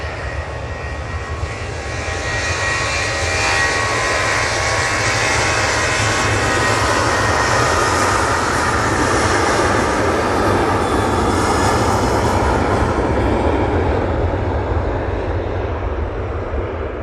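Airliner taking off from Manchester Airport bound for Rome, a loud sustained jet engine roar with broadband rumble that holds steady, then slowly thins toward the end.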